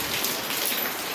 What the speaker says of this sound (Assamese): একদম বৰষুণ দিছে দেই ঢেৰ বৰষুণ দিছে